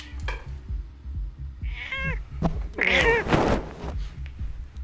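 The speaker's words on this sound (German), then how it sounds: "Katze." A cat meows in two drawn-out calls close by, rising and falling over a low steady rumble of racing game engine sound from Trackmania Turbo.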